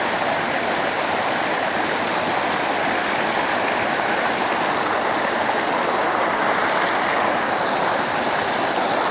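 Water rushes steadily along a forest-path stream in Nepal, washing a leech away: a loud, continuous broadband flow with no pauses, close by and alone without talk.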